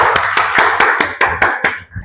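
Classroom applause for a student group, a short burst of about eight sharp, rhythmic claps, loud and close, fading at the end.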